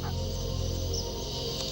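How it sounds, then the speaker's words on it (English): Crocodile hatchlings squawk from inside their nest, giving muffled, tonal, bird-like calls that run continuously under a dense, steady background. "Mother Croc hears the muffled squawking of her hatching babies"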